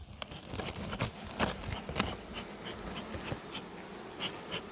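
Honeybees buzz around a hive during a smoking and hive-reduction check, a close, busy drone broken by sharp bursts as individual bees pass near, with no talking.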